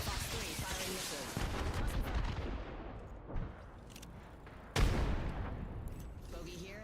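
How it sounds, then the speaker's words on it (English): Missile fire in the video game Apex Legends, dense booming blasts and rumbling explosions with a sharp crack near the end, while a voice talks over the action. "Fox 3 firing missiles."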